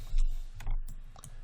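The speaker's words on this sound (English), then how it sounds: "hit Q on a keyboard" A few quick computer keyboard key presses click sharply and close, with short pauses between them and no talking.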